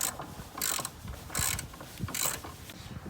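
A hand ratchet works on the battery hold-down bolt of a 2001 Ford F-150, sounding in three close, evenly spaced bursts of rapid clicking.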